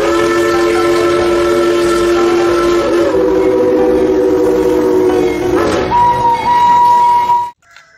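A toy steam train hums and whistles with steady tones, then a higher whistle sounds briefly before it cuts off abruptly.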